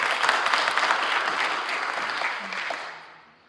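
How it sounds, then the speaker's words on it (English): A room full of people applauds candidates at a Metro Council District 4 forum, loud, dense clapping that holds steady and then tapers off toward the end. "Please give them a round of applause."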